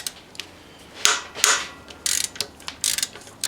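A ratchet works loose the 14 mm top bolt on a Honda Civic 1.7L SOHC timing belt tensioner: several bursts of quick clicking close by, separated by short pauses, with no talk.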